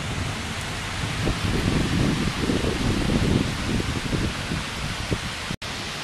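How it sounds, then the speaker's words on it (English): Heavy rain pours outdoors during a thunderstorm, a steady broadband hiss with faint low rumbling patter, continuous and fairly loud, cutting out briefly near the end. "It's very, very rainy and a lot of lightning and thunder out here."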